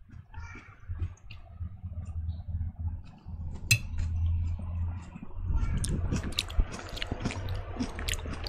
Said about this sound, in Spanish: Mastico con la boca abierta para ti.